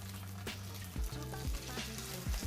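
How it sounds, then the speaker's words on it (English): Chicken pieces pan-frying for sesame chicken sizzle and crackle in a pan, close and steady, with a few soft thumps and scrapes of stirring. "So you want to pan fry them, give them a little space in between"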